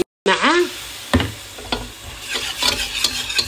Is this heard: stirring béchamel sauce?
yes